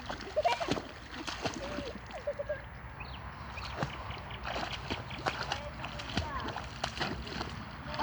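Irregular water splashes and sloshing as a child bathes outdoors for the first time, with people and someone talking throughout.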